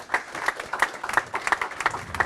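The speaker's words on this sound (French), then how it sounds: "On peut les applaudir bien fort." Listeners clap after a presentation at a sports-and-AI event. The applause is fairly close and lively, with a pulsing, almost rhythmic pattern of claps and no talk over it.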